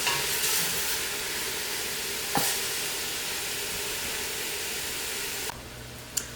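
Beef pieces for a lowfat chili browning in a hot pan give off a steady, even sizzle at moderate volume, with a couple of brief taps and no voices.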